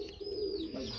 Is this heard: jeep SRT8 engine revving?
no